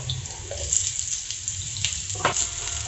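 Garlic browns in a frying pan for adobo, a soft steady sizzle and hiss close by, with a few faint clinks of a utensil against the pan.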